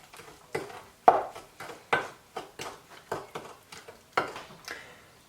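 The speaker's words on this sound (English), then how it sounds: "put that in too, and give all that a really good stir" Spoon stirring cracked egg into mug cake batter in a mug, a series of about a dozen distinct close knocks and scrapes against the sides in a loose steady rhythm.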